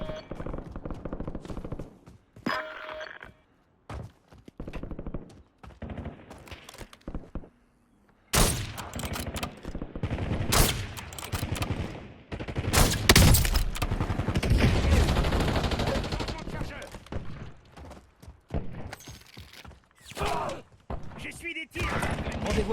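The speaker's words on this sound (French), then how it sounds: "J'essuie des tirs." Gunfire erupts in the Warzone battle royale video game: bursts of rapid automatic fire and sharp single shots come and go over about twenty seconds. The firing is loud and close, with dense sustained volleys in the middle and quieter gaps between.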